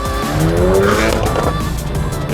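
A tuned Honda Civic Type R FK8 drives hard, its engine note rising and shifting close by with a loud, continuous tonal roar and some tire noise.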